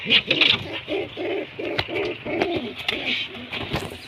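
Pigeons cooing close by in a steady run of soft, throaty rolling calls, with faint clicks and flutters mixed in.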